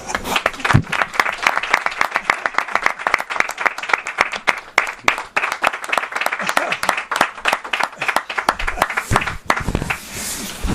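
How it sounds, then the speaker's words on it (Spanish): An audience claps for the writer Mills Fox Edgerton at an event in Spain: dense, sharp, continuous applause with individual claps standing out, sustained for the whole stretch and thinning slightly near the end. "Un aplauso para él."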